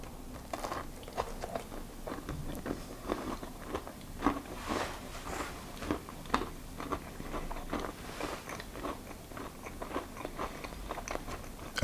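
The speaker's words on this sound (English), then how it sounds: "it's still crunchy, but nice and moist as you're crunching it" Repeated crisp bites and crunchy chewing of a hazelnut and date biscotti softened from dunking in tea, close-up and steady over several seconds, with no talking.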